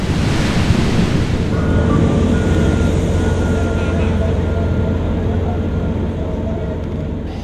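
Ocean swell waves break loudly and continuously on the coast at Iquique, Chile, a dense roaring surf wash with a steady low rumble close to the microphone, with no talk over it.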